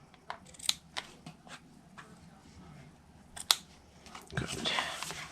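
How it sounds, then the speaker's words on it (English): Scissors trim small paper pieces for a Stampin' Up! greeting card, producing faint, close snips spaced irregularly, with a brief rustle of paper handling near the end. "I'm just going to trim them to be about the same"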